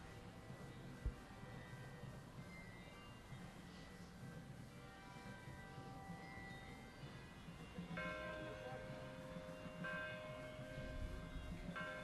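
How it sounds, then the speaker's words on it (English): Church bells ring continuously at 3:30 over a steady background hum at a street painting festival, with layered tolling tones that grow fuller partway through. "we've got the bells going now"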